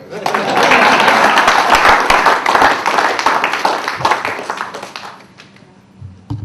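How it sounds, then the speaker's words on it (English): Audience applause at a company awards day fills the room, loud and steady for about five seconds, then thins out and fades, with a few scattered claps at the end. "You can applaud for that also, guys."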